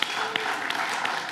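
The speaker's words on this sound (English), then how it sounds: "so let's give another round of applause for Boyle Heights." An audience claps at a tech kickoff event in Los Angeles, a dense spread of clapping with a few sharper claps standing out near the front, steady and fairly loud throughout its short span.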